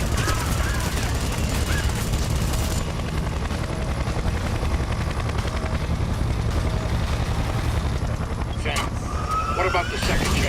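A helicopter in Splinter Cell: Conviction roars continuously with dense rotor noise while gunfire rattles, loud and close, with voices speaking over the din.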